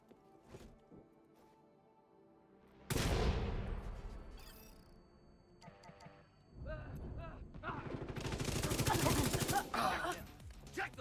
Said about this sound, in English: gonna shoot the one on the right, initiated. and then shoot on the one in the back